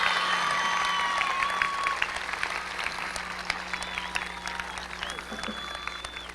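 A crowd at a high school graduation commencement breaks into sustained applause, steady clapping that thins slightly toward the end, with faint tonal sounds over it.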